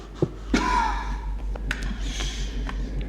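Heavy breathing from Minecraft: a sharp gasp, then a long ragged breath and scattered thuds and taps, close and tense, with no speech.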